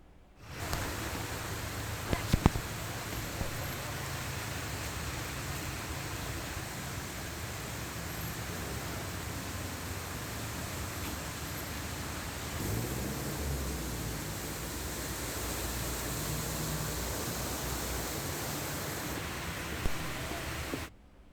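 Heavy rain pours over Hyderabad neighbourhoods including Abids, Nampally, Basheerbagh and Begum Bazar, a dense, steady roar of falling water that holds at an even loudness for the whole stretch, with no voices.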